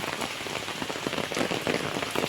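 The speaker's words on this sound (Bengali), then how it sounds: "इतना बृष्टि हो रहा है ना" Steady rain pours down on a village in Cooch Behar, a dense, even patter of drops hitting surfaces that fills the whole clip with no voices.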